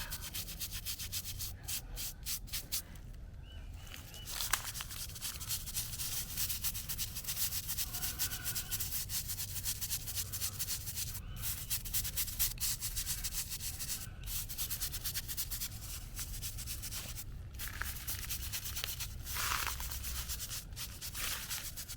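A brush scrubs the carved lettering of a headstone in steady, continuous rubbing strokes that stay close and fairly loud for the whole stretch, with no talking.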